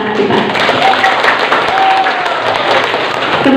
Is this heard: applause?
yes